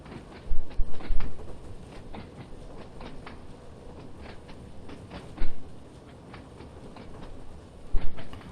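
A Class 483 electric train, 1938 Stock, runs on the Island Line in Train Sim World 2 with a steady rolling rumble, rhythmic wheel clicks over rail joints, and a few louder clunks, without any talk.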